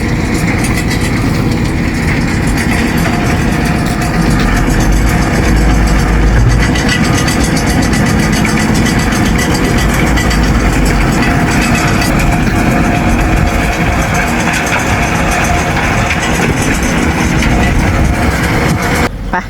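Heavy machinery working at a compost site, a loud, steady engine drone and rumble running throughout with no break.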